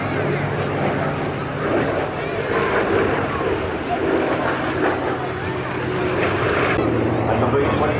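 A Douglas DC-6 propeller airliner flies in at an airshow, its engines a steady, moderately loud drone with a broad rumble. A voice talks over the sound throughout.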